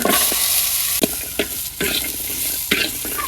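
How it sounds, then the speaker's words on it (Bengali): Garlic sizzling in hot oil in a pan with chillies, a loud continuous frying hiss broken by several sharp scrapes of a spoon stirring, close up with no voices. "এবার রসুন টেলে নেই রসুন দিয়ে দিলাম"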